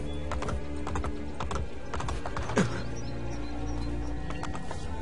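Horse hooves from the video game Assassin's Creed Brotherhood: a steady clip-clop of hoofbeats at a trot, fairly close and moderately loud over a low ambient game background, with one brief louder knock midway.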